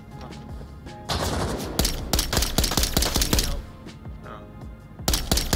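Rapid gunfire in the VR shooter Onward, dense bursts of sharp close shots with a brief lull and a final burst, heard without talk.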